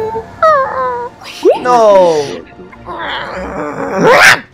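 A person vocally imitates a hurt puppy whimpering, with several high wavering whines and yelps, loud and close, interrupted by a brief spoken exclamation.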